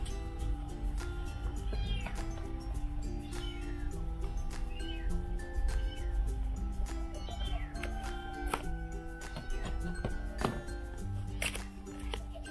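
A kitten meows several times in an indoor room, its mewing rising from a dense, steady background of hum and tonal noise with no talk.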